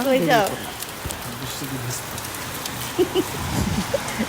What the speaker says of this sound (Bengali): বৃষ্টি দেখে আর ঘরে আটকে থাকতে পারলাম না